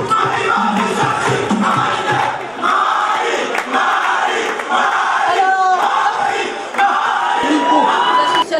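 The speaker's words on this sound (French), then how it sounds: "Mesdames et messieurs, on applaudit encore une fois Mame Yafa." A crowd at a Malian awards ceremony cheers and yells loudly and continuously, with whoops and shouts over dense applause for an honoree.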